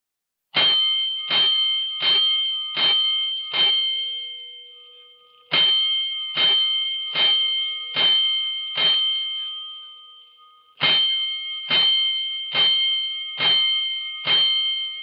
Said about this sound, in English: Five bells. Stand by all stations.